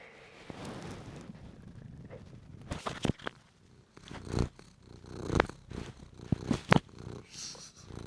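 Pet cat purring up close during play, a soft low rumble broken by sharp rustles, taps and bumps that grow busier toward the end.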